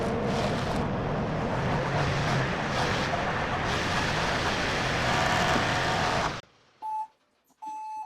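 An LS MT242 compact tractor drives back into a garage in snowy conditions, its steady rumbling engine noise running loud and even before cutting off abruptly, followed by a few short, sharp warning beeps.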